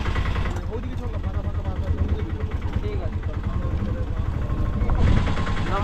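An auto rickshaw engine idles close by near Bagda Beach in Odisha, a loud continuous rough rattling thrum that swells slightly near the end, with people talking over it.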